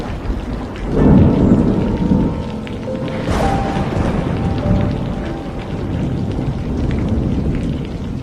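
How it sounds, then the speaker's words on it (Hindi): A thunderclap booms over a steady downpour of heavy rain, followed by lingering rumbles as the storm continues. "ये क्या इतनी तेज बारिश!"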